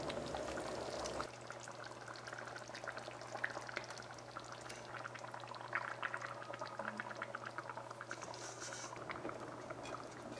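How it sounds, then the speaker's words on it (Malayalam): Fish masala gravy for a Kerala-style curry bubbling steadily in a pan, a continuous close simmering hiss and gentle bubbling that holds for the whole stretch with no talk. "നമുക്ക് അപ്പോൾ നമ്മുടെ ഗ്രേവി നന്നായിട്ട് തിളച്ചിട്ടുണ്ട്."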